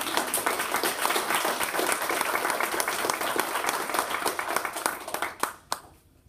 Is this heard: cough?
no